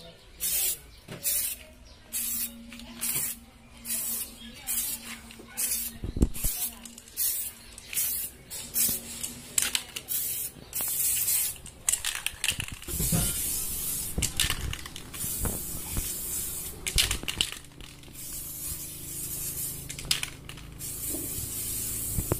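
Samurai spray paint can spraying in repeated short bursts, hissing loudly with brief pauses, during a DIY repaint from glossy to matte finish, with a few knocks and handling noises between sprays.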